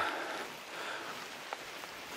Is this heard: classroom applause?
no